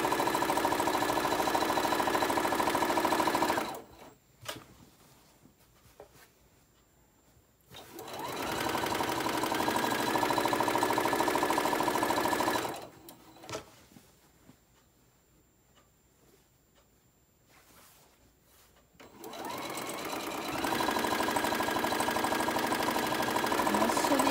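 A sewing machine stitches the bottom seam of a Christmas pillowcase in three loud, close, steady runs of rapid needle chatter, separated by two quiet pauses of several seconds each.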